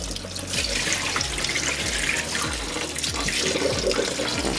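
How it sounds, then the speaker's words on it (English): Hand-dyed yarn gently rinsed under a steady stream of running tap water, a continuous close splashing rush with no talking. "You just want to gently rinse it."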